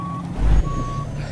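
Steady electronic reversing beeps from a Peterbilt 389 truck in Euro Truck Simulator 2, two long even tones with a brief low engine thump between them over a quiet idle rumble.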